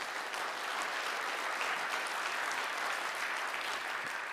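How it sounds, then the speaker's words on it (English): An audience at a mayoral candidate forum in Racine applauds the candidates with even, sustained clapping at a moderate distance, fairly faint and unbroken throughout. "Round of applause, y'all, for them."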